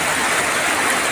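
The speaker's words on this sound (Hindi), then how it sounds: "यहां पे चल रहा है नीचे पानी" Water rushes steadily somewhere below, a loud, dense, unbroken hiss of flowing water filling the whole moment with no breaks.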